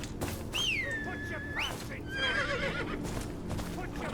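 A horse whinnies in the video game Game of Thrones Kingsroad, a loud rising-then-falling neigh followed by a second shorter whinny, over steady game background sound and hoofbeats.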